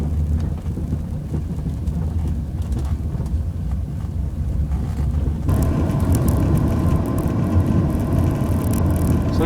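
A Jaguar X-Type driving over a lumpy industrial-park surface, with a steady low road rumble that turns louder and harsher halfway through as the suspension knocks and thumps.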